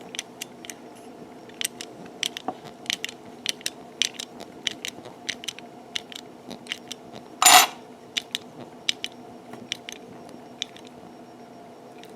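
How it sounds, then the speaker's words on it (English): A Knight Rider model car's small gearbox and steering mechanism turn, giving sparse, light plastic clicks and ticks up close, with one brief louder burst of whirring in the middle and no talking. "there's our gearbox. Do one more test here of this steering mechanism, and you see that little pin turning"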